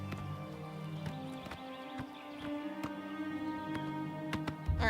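A horse in the video game Oblivion Remaster clip-clops along steadily, its hoofbeats rhythmic and fairly close over a continuous tonal game soundscape, with no speech.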